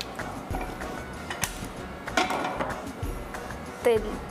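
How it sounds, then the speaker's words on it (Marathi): A gas stove's igniter clicks a few times in a home kitchen, faint sharp ticks scattered between steady conversation. "गॅस चालू करायचं"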